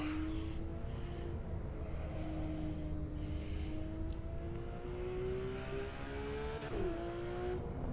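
A Porsche GT3 RS engine in the Assetto Corsa racing game pulls under full throttle, a steady rising whine climbing through the revs with a brief dip near the end before climbing again.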